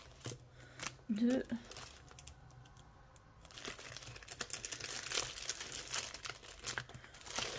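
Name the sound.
envelopes being handled and put inside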